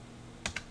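A couple of quick, faint computer keyboard key presses while entering numbers, two close taps in an otherwise quiet room.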